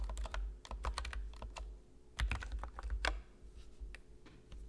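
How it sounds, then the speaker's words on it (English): Fingers tap quickly on a computer keyboard, a close, quiet patter of uneven clicks with brief pauses between short runs of keystrokes. "So I'm going to type in here, hello world."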